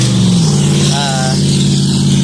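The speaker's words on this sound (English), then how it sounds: "There's some loud trucks here." Loud trucks pass close by outdoors, a steady heavy engine rumble throughout with a brief rising tonal whine midway.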